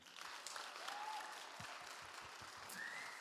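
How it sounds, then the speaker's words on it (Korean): A congregation at a church young-adults worship service applauds in a steady, dense wash of clapping that fills the whole clip, with a couple of short whistles cutting through and faint voices underneath. "여러분 큰 박수로 또 잘했다 칭찬해 주시고 격려해 주시기 바랍니다"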